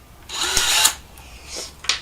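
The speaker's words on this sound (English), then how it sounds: "You kind of pre-drill your holes" A power drill whirs in a short burst, winding up and down, followed by two brief quieter bursts of drilling, pre-drilling screw holes for a hinge on a model railway layout lift bridge.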